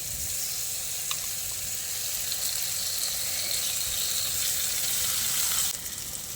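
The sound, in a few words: pointed gourd pulp added to sizzling masala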